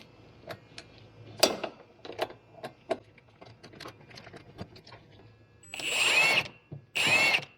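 A power tool works on the outer tie rod of a 1994–2002 Audi A8 D2, giving scattered metallic clicks and knocks and then two short, loud bursts of drill-like whirring near the end.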